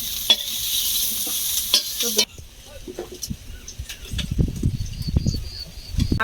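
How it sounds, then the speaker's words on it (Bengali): Frying in oil in a home kitchen pan, with soft sizzling and stirring scrapes that come in bursts, fairly quiet, with a few clinks and a brief hiss near the start. "আর একটু ভেজে নিলাম"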